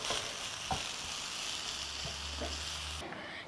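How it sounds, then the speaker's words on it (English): Manioc and vegetables fry in a pan with a steady close sizzle and a few soft stirring knocks, alone without talk. "It's a manioc stir fry with the vegetables."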